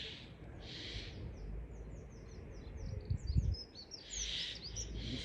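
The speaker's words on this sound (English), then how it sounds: "Looks like the birds have woken up." Morning birds call and chirp in the distance, quick high whistles and trills repeating across the clip over a low, soft outdoor hum with a few nearby thumps.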